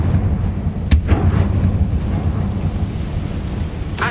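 A Confringo fire spell blasts off in the Hogwarts Legacy video game. Sharp explosive cracks go off at about one second and again near the end, and a loud rumbling boom rolls through the whole stretch between them.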